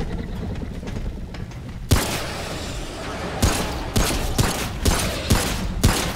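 Gunfire from the game Remnant From The Ashes: a dense rumble of shooting, then a series of loud, sharp shots at roughly half-second to one-second intervals, close and punchy.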